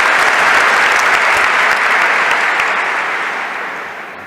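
A large graduation ceremony crowd breaks into dense, sustained applause, loud and continuous, tapering slightly toward the end.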